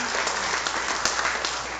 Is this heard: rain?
no